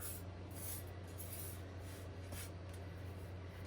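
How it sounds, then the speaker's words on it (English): Small polymer clay piece being lightly filed, a soft, quiet rasping rub repeated in short strokes with no talking. "So I'm just doing a quick little file."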